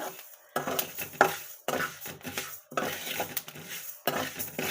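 Seeds being dry-roasted in a pan at home, with bursts of scraping and stirring and light crackling pops that come in short, irregular rounds, close and fairly quiet.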